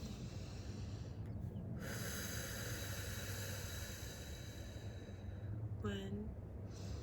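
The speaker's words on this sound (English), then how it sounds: "Let's take a few deep breaths." A person taking slow, deep breaths, a soft airy inhale-exhale heard close over a steady hiss of background noise, with a brief snort-like catch near the end.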